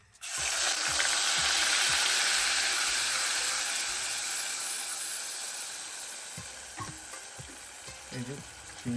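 Onion paste hitting hot oil for a Bengali prawn malai curry, bursting into a loud, bright sizzle right away, then frying steadily as the hiss gradually softens with faint stirring clatter near the end.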